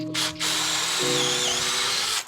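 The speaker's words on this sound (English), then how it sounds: "you're supposed to use a 7mm SDS bit, drill that into the wall" An SDS drill with a 7mm bit bores into an old wall for concrete screws during a garden shed build: a loud, continuous, close motor whine and grinding rattle whose pitch drops partway through as the bit bites, with no talking.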